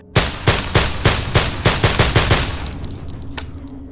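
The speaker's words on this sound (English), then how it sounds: "The guns in this game have impact and weight to them, paired with some nice gun sounds, if a bit loud" Rapid gunfire from a firearm in the zombie video game No More Room in Hell: about nine loud, evenly spaced shots in quick succession, then a brief pause, a single fainter click and a quiet ringing tail.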